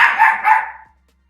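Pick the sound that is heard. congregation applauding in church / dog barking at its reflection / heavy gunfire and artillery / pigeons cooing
dog barking at its reflection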